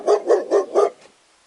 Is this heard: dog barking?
yes